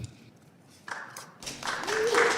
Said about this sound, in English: Y'all don't need to clap for me.